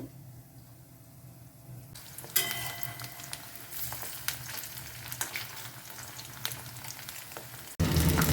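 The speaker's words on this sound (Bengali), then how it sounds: "এই কটা ভেজে নিই আর একটু আছে ভাজবার জন্য" Chicken pakoras frying in hot oil in a home kitchen, a steady bubbling sizzle that jumps louder as a fresh batch drops in, with crackles and spoon clinks, then a brief surge at the end.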